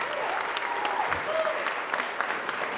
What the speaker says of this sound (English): Give a round of applause for yourselves here tonight.